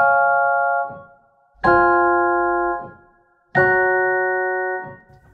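Sampled celeste from the Moonlight Celeste Kontakt library, played with a 100 ms sample start latency: three bell-like notes, each striking clearly and ringing out with a slow, shimmering decay in otherwise quiet surroundings.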